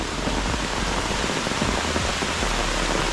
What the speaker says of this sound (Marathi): पाऊस बघा काय आला मुसल धार एकदम